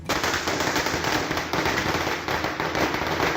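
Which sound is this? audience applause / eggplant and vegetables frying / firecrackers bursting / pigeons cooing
firecrackers bursting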